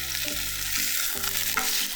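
Tofu pieces stuffed with minced pork pan-fry after being browned on one side, a close, continuous sizzle and crackle of oil with light stirring, under faint background music and no speech.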